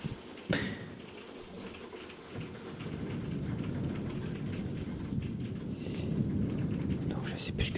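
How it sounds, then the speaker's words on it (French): Rain falling with hail during a storm, a dense steady hiss and patter that swells louder toward the end, with a sharp crack near the start and a soft rumble beneath. "il y a de la pluie, ça s'arrête, il y a de la grêle"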